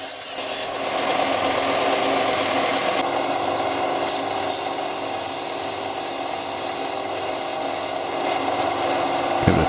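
A disc sander grinds and polishes a metal casting up close, a continuous loud abrasive rasping whir with a steady motor tone and slight shifts in pitch as pressure changes.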